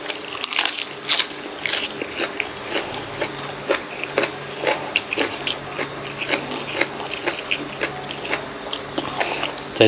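Crunchy bites of blanched pork intestine dipped in seafood sauce, heard up close as a string of sharp, crisp crunches and chewing that repeats irregularly throughout.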